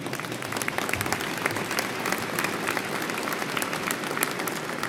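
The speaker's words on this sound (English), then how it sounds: "They really do deserve a round of applause for that." A large audience claps at an FDNY medal ceremony, loud sustained applause with individual hand claps popping through the continuous roar.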